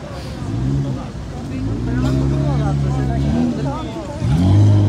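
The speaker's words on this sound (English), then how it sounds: "Albania is a country with lots of traffic in their capital city." Busy street traffic in Tirana, the Albanian capital, with cars droning and revving nearby in a steady, loud wash and a rising engine surge at the end, while a voice talks over it.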